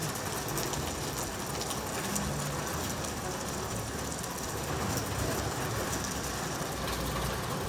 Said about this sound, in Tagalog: Ngayon lang po medyo humina ang ulan.